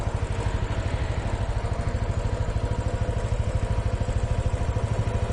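A Royal Enfield Himalayan motorcycle engine idles close by, a steady, rapid low thumping that stays even throughout with no voices.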